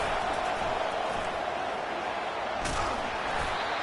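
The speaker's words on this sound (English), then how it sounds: "Decibels rising as the crowd gets behind this defense on third down." A college football video game stadium crowd on third down keeps up a steady, dense roar of cheering and noise, loud and continuous throughout, with a brief sharper burst partway through.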